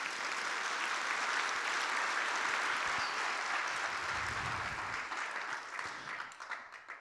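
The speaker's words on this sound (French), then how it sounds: "Est-ce que vous pouvez applaudir?" A conference audience in Pau applauds at a speaker's request, a dense steady patter of many hands that holds strong and then thins out toward the end.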